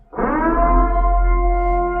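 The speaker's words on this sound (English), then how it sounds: "I'm gonna hit you with the purge sirens." A purge siren sound effect swells in quickly and holds a loud, sustained wailing tone with a deep rumble beneath, with no voices over it.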